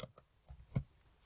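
Mouse clicks at a computer while a font size is changed in T-shirt design software: a few sharp, quiet clicks spaced across a short, otherwise near-silent stretch.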